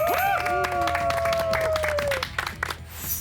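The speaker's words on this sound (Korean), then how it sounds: "박수 한번 주세요." Studio audience clapping on a Korean army TV show introducing the military forensic science center, dense applause mixed with a bright musical sting and tones over the first two seconds, then clapping trailing off.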